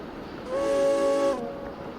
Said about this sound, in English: Yes, train.